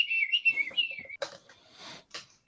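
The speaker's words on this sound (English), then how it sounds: "I'm going to start whistling then" A person whistles a bright, wavering tune for about a second, close and clear, followed by a few short scuffs and taps.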